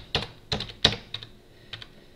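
An address is typed on a computer keyboard: scattered, light key clicks come at an uneven pace with gaps between the strokes, close and fairly quiet, with no voices.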